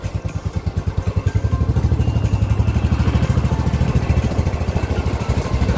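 Motorcycles ridden through pitch-dark streets at about 3 a.m., setting out from home in Kolkata: a close, steady engine thrum with rapid rhythmic firing pulses that holds at an even, loud level throughout, with no talking.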